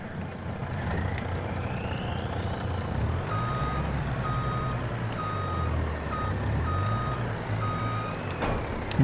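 A truck in Farming Simulator 22 reverses to hitch a trailer, with evenly spaced electronic backup beeps over a low, droning diesel engine that shifts in pitch, and a brief clunk at the end.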